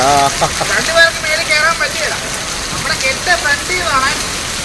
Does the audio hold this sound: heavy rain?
yes